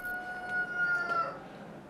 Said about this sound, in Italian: il canto del primo gallo annuncerà che il giorno è vicino